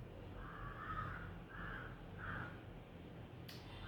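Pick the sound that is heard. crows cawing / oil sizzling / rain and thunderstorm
crows cawing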